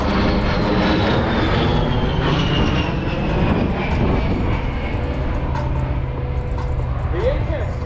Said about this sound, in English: The A-10's turbofan engines add more than just power to its performance.